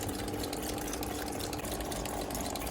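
Water rushes steadily through the fuel injectors of a factory-CNG 2012 Honda City on a cleaning test bench, a continuous loud hissing spray with a faint pump hum beneath, no voices.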